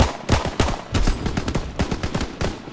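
Gunfire at the shooting range in Call of Duty WWII, a fast run of sharp close shots in quick bursts with brief gaps between them.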